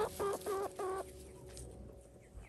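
A chicken clucks three times in quick succession, close by, then falls quiet against a soft background.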